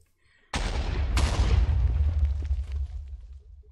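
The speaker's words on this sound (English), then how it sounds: "that was like a double creeper explosion" Two Minecraft creeper explosions from modded Minecraft (SevTech Ages), a loud sharp boom followed about half a second later by a second blast, leaving a long rumbling, crackling decay with no talk.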